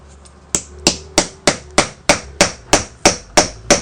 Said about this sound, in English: I can feel it's getting really easy to hammer.